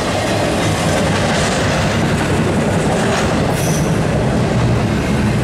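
A Norfolk Southern double-stack intermodal freight train led by three AC44 locomotives rumbles past steadily and loudly, with continuous rolling wheel noise and a brief high squeal partway through.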